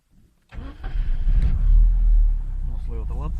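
A Mercedes car engine cranks and catches, then settles into a loud, steady low rumble through an exhaust made louder by the removed catalytic converter. The car starts but lacks pulling power. Voices talk near the end.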